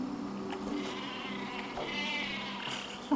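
A sheep weapon in the Worms Revolution video game bleats in several wavering cries over a soft game background, fairly close and clear, with no talk over it.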